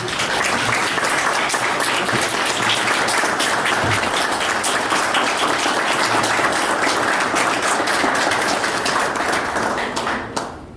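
Conference audience applause for the children's safety professional gathering, a sustained dense wash of many hands clapping for about ten seconds before tapering off.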